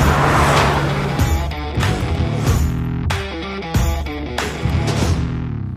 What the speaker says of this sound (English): The 3-liter six-cylinder petrol engine can really rip.